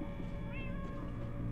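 A single short cat meow in Minecraft: Story Mode, heard over a constant background hum of game ambience.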